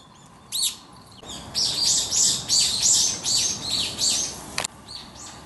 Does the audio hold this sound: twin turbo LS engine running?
no